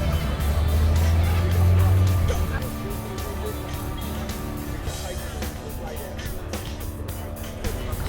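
A Mazda 360 Ute with fuel injection and a full-barrel throttle body idles loudly nearby at a Japanese classic car day, its engine note swelling briefly then settling into a steady rumble.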